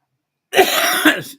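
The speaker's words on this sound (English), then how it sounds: "I haven't been coughing until I got on the air." A single close throat-clearing cough, rough and brief, with a second harsh burst near the end, alone in silence.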